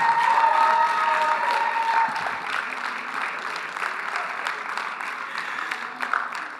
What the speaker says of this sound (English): can you show me by round of applause, screaming, and jumping how excited you have been to be here